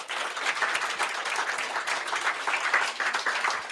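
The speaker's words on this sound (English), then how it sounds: "Round of applause for these guys." Steady, enthusiastic applause from an audience at an investor meetup fills the space, dense clapping sustained throughout without pause.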